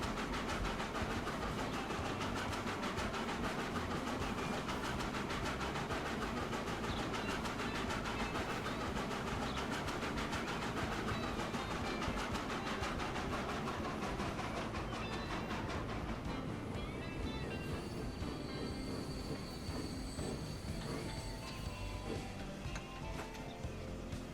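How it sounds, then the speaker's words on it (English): A train runs in the video game Transport Fever 2, a continuous rolling rumble with rhythmic clickety-clack over the rails, steady and moderately loud, thinning out toward the end with no one talking. "you can enjoy this train in all its glory"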